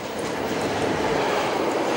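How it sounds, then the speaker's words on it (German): An early commuter train rolls past on the Lötschberg line in Switzerland, a steady loud rumble of wheels on rail lasting throughout. "Ein früher Pendlerzug."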